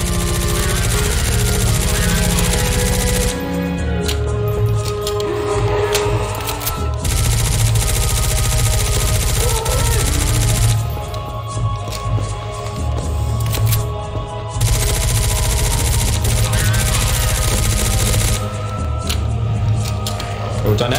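Dense, rapid gunfire from a Counter-Strike: Source zombie escape map, with continuous loud automatic bursts from several weapons overlapping nearly without pause, while players talk over it.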